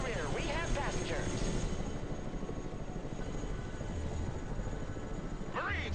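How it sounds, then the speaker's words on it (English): A CH-53 heavy-lift helicopter in a video game gives off a steady, droning rotor and engine roar throughout, with brief voices speaking over it near the start and end. "CH-53 heavy lift helicopter here."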